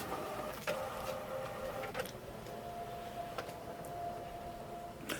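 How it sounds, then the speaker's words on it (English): An HP OfficeJet Enterprise X585 inkjet printer running quietly with a steady mechanical hum, punctuated by a few sharp clicks and a faint whirring tone as it works. "now it's gonna start printing again"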